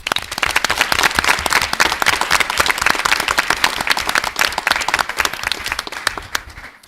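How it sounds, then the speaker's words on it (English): An audience at a school board meeting applauds two standing teachers, a dense, steady burst of clapping that holds for several seconds before tapering off at the end. "If you give them a round of applause."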